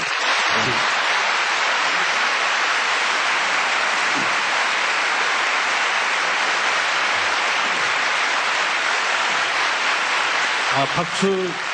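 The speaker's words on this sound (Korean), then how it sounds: "박수 한번 치시고" Applause from a university lecture audience at a leadership centre talk by a former South Korean president, a loud, dense, unbroken wall of clapping that resembles heavy rain, with brief voices near the end.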